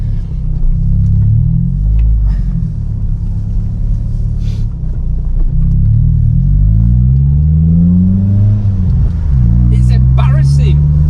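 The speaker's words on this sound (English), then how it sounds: "it sounds like I've got a massive hole in the exhaust" A car fitted with a loud Milltek Evo2 full exhaust, manifold and sports cat drones loudly and continuously, with a deep low rumble rising and falling as the engine note shifts and a brief higher rev near the end.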